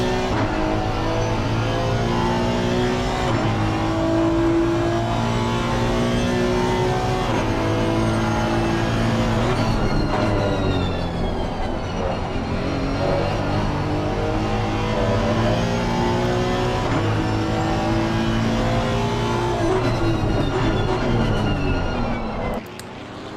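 Honda race car in a PC racing game at Donington, its engine droning loud and close with sustained high revs and rising and falling gear changes throughout.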